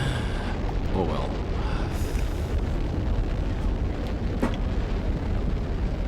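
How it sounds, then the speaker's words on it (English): A carbon wheel rocket lifting off in Automation Empire, a sustained roaring rumble like a launch eruption, steady and fairly full throughout, with a brief crackle partway and faint voice at times. "there goes the carbon wheel rocket"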